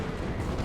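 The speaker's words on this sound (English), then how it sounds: "There's an answer. Plasma Cannon to the face." A plasma cannon fires in a Warhammer 40k: Dawn of War 2 multiplayer battle, a brief dense blast of roaring, explosive noise filling the whole moment with no talk.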